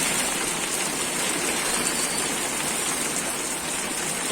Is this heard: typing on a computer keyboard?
no